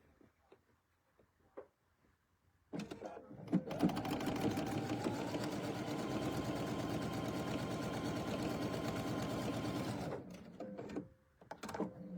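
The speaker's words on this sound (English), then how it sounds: "And I'm going to sew these together." Sewing machine stitching fabric strips together in a quilting session, a steady loud mechanical whir running for about seven seconds after a few short starts, with quiet handling noise before and after.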